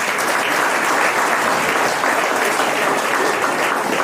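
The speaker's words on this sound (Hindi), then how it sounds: "तो एक बार जोरदार तालियां।" Loud, sustained applause from a large audience at a motivational speech, a thick unbroken roar of many hands clapping that stays strong and even from start to finish.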